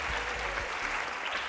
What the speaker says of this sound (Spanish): Por favor, un aplauso para Tomás Ríos.